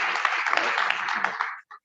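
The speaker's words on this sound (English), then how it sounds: "let's give her a round of applause" Audience applause at an Edo Language Day event in Benin City, a steady wash of clapping hands at moderate loudness that stops abruptly near the end.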